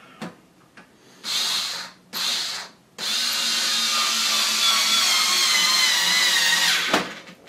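Screws being tightened on an original Xbox with a power driver, heard up close as two short whirring bursts followed by a long steady buzzing run that stops abruptly.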